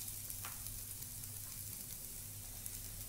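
Onion and two tablespoons of grated coconut sauté in a pan for a chutney, giving a steady, quiet hiss of frying with a few faint stirring scrapes and no talking.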